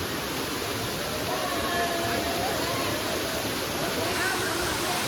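A waterfall at Pavagadh roars in a dense, steady rush of falling water, loud and close, filling the whole stretch with faint voices beneath it.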